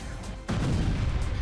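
Russian multiple-launch artillery shells a Ukrainian military camp near Slavorod: a distant muffled thump, then a sudden heavy rumbling impact with rolling low-end noise and a fainter follow-up burst.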